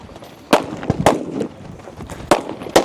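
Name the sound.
pistol gunshots at shooting competition stage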